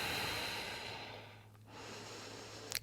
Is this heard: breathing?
yes